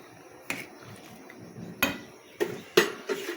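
A metal lid set down on a pot of bitter gourd dal, several sharp clinking knocks, close and clear in a quiet kitchen with a few brief taps spaced apart.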